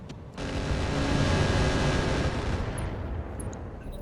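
An Orion mech in BattleTech RogueTech launching its missile weapons, a loud, dense roar of rocket fire sustained for about two seconds, then fading into scattered small impacts, with no talking.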